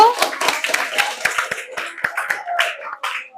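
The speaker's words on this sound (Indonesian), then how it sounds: "tepuk tangan dulu buat kelompok 1" Classroom applause for a student presentation group, irregular hand claps from a modest number of students, fairly close and somewhat sparse, mixed with a bit of voice and chatter.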